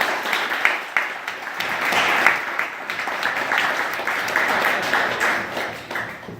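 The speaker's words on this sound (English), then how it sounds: "do a quick round of applause for the many committee members" A round of applause from attendees at the Pride Center St. Louis open house, continuous mid-level clapping with a few sharper claps and cheers standing out, tapering off toward the end.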